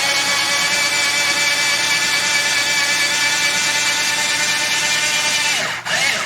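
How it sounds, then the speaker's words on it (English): A power drill drives screws into wood for a Gerstner-style machinist toolbox, giving a loud, steady high whine that holds for several seconds and then winds down abruptly near the end. "So for now I'm just going to use these screws that will actually screw into the wood."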